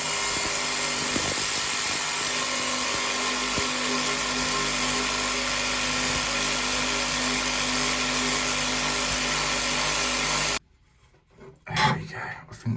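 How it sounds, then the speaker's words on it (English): A saw rasps steadily back and forth through the nut on a plastic overflow pipe, loud and close for about ten seconds, then stops abruptly, leaving a few faint handling knocks. "So the way I'm cutting is down through the middle one, try and cut that nut in half"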